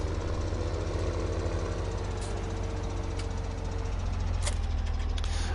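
A Case Magnum tractor engine in Farming Simulator 17 drones steadily and loudly throughout, a deep continuous rumble with a low knocking throb and no speech over it.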